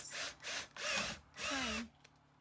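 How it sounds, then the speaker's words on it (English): A power drill drives longer screws into a wooden frame in a few short bursts, its whine rising and falling in four close, loud pulses before stopping. "now we're going to drive in longer screws"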